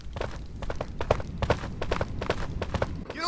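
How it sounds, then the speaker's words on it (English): Rapid, regular clip-clopping hoofbeats of horses trotting in the horror video game Cry of Fear, steady and close, with a faint background rumble. "Sound like horses."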